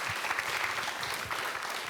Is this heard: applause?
yes